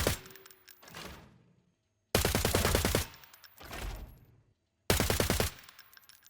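Three separate bursts of rapid, muffled suppressed gunfire in the video game Arena Breakout Infinite, each a quick rattling volley followed by a short quiet gap.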